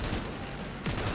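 Burst of rapid gunfire in the video game Cyberpunk 2077, a dense fusillade of shots packed into about a second, with a brief gap before the firing resumes.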